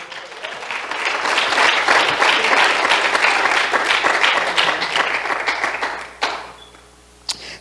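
A church congregation giving loud sustained applause for several seconds, dense clapping that tapers off into a few scattered claps.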